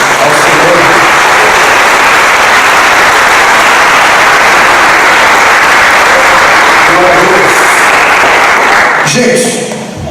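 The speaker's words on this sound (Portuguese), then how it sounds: "Se você puder dar uma salva de palmas ao Senhor" A church congregation gives a round of applause to the Lord: loud, sustained clapping from a large crowd lasting about nine seconds before tapering off, with some voices faintly underneath.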